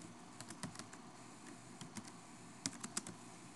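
Quiet clicking of keys on a computer keyboard while someone enters menu items, with sparse, irregular taps and a few sharper strikes near the end over a low room hiss.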